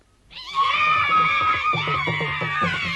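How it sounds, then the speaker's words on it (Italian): A blood-curdling shriek rises sharply and holds as a loud, harmonic scream for over two seconds, with pulsing rhythmic sounds beneath it in the latter half and no speech. "All'improvviso, uno stridio da ghiacciare il sangue svegliò i 12 fratelli"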